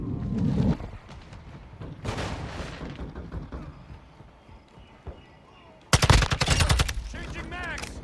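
Rifle gunfire in Call of Duty Modern Warfare II, likely the TAQ-56. A sharp burst opens, scattered shots and voices fill the middle, then a loud, rapid volley erupts near the end.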